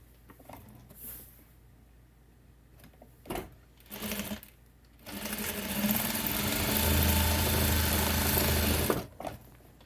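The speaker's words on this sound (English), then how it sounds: "let's fold this side over and stitch 1/4 of an inch here" A sewing machine stitches a quarter-inch seam on a quilt block, running in a steady whirring burst for about four seconds after some handling clicks and rustling of fabric, close and clear.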